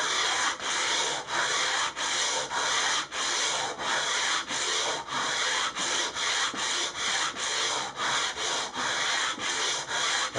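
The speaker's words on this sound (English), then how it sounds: "sanding a fretboard radius with a block like this" Sandpaper on a block is pushed back and forth across a wooden guitar fretboard to shape its radius, giving a steady rhythmic rasp with about fifteen even strokes, close and alone.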